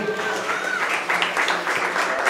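An audience applauds at a squash tournament award ceremony, with continuous clapping at moderate volume and voices heard faintly beneath it.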